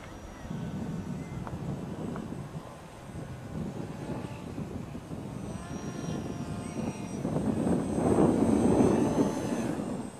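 A small propeller model airplane built from trash buzzes in flight, its engine hum growing louder near the end, with faint voices in the background.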